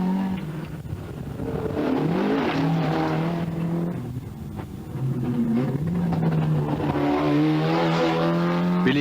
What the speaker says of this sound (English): Billy Daly in his Class 2 Golf GTI has moved up the field very well due to nothing but consistency and skilled driving